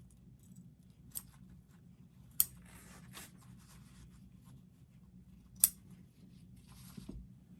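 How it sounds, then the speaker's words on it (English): Scissors snip through a plastic bunny-ears headband in a quiet room, with a few sharp, isolated cuts and faint rustling handling between them, and no talking. "take the bunny rabbit ears that we got as a headband at Joann's, and we want to cut off the headband part"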